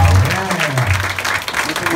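An audience applauds a doctor at a health talk on cervical cancer, a dense continuous patter of clapping with voices murmuring beneath it.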